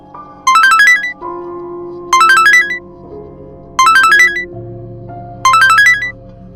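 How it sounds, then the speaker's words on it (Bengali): A mobile phone ringtone plays loud and close, a bright rising chime phrase repeated four times at steady intervals over a soft background. "খানিক বাদেই মোবাইলটা বেজে উঠল।"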